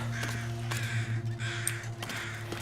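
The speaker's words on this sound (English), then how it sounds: "Hey, crows." Crows caw in the snowy wilderness of The Long Dark, several harsh repeated calls over a steady low background hum.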